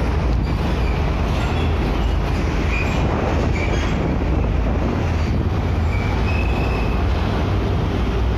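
A train rumbles past close by at the Koja railway crossing in North Jakarta, with a dense, loud roar of wheels and steady rolling noise throughout, and faint squeals over the top.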